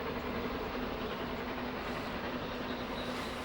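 A 70-year-old King Edward I steam locomotive hauling a train on a main line shared with high-speed trains, heard as a steady rumbling roar with a faint running hum, continuous and even throughout.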